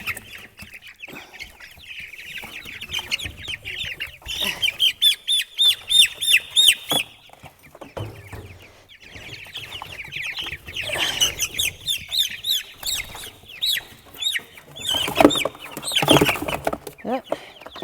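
Mixed flock of six-week-old and three-week-old chickens clucking and peeping close by, a busy, overlapping chatter of short calls rising and falling in bursts with brief quieter gaps.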